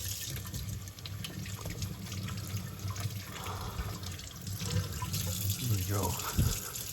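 Water runs steadily from a tap, splashing as mud and gunk are rinsed from inside a Traxxas Maxx V2 RC tire rim, with a few louder gushes near the end.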